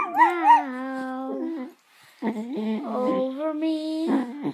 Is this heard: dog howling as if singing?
yes